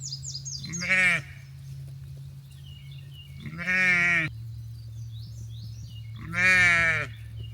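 Ewes and lambs on a farm during lambing bleat three times at even intervals, each call loud and close, with a low steady hum running underneath.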